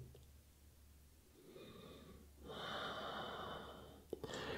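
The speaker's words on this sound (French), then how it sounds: "On respire bien." A person holding a seated yoga twist breathes slowly and softly, a close airy inhale swelling into a longer exhale, with a small click near the end.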